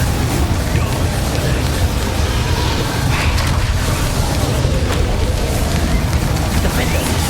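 Confringo blasting spell exploding in Hogwarts Legacy combat, a loud continuous roar of fiery blasts and rumbling impacts layered with battle noise throughout.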